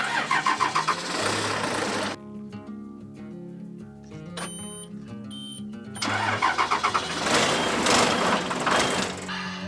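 An old bus engine cranks repeatedly on a cold day, rhythmic starter whirring in two long bursts separated by a quieter lull with faint idling hum, close and fairly loud.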